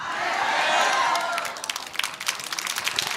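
An audience at a Korean political speech gives a sustained burst of applause, a dense wash of clapping that thins into scattered, sharper individual claps toward the end.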